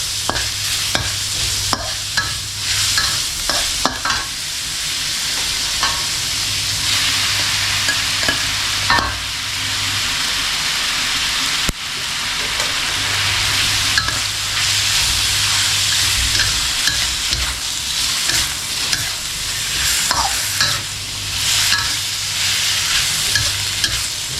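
Pork belly and bamboo shoots stir-fried with dried chili in a hot pan, a loud continuous sizzle and hiss with repeated scraping and clanking of the spatula throughout.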